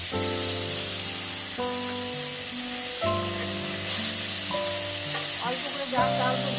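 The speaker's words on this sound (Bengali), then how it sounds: "আমি ভালো করে মশলাটা একটু ভেজে নিচ্ছি" Onion and garlic paste frying in oil with spices for a boal fish curry, a steady sizzle under louder melodic background music throughout.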